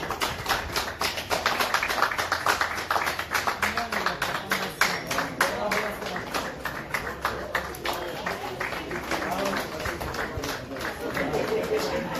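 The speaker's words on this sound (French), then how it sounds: "C'est parti, on applaudit tout fort." A crowd at a civil wedding ceremony applauding steadily and loudly, dense clapping that continues throughout, with voices mixed in underneath.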